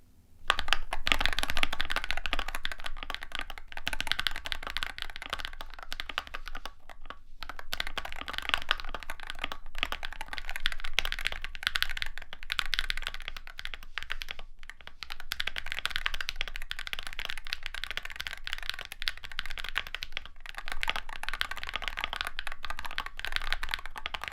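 Steady clacking of a Wooting 60HE V2 mechanical keyboard being typed on, rapid keystrokes in continuous bursts with short pauses, close and fairly quiet.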